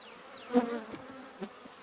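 Slightly agitated honey bees buzz at an open hive in a low, wavering drone with a couple of louder swells as insects pass close, then the hum settles back to a soft steady background.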